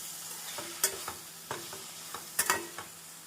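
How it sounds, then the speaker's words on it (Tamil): Brinjal stirred with onion and tomato in a kadai over medium heat for a tamarind kulambu, soft sizzling under a series of sharp spatula scrapes and clinks against the pan. "நம் கத்திரிக்காயை சேர்த்து ஒரு நிமிடம் வெங்காயம் தக்காளியுடன் நன்றாக மிதமான தீயில் வதக்க வேண்டும்"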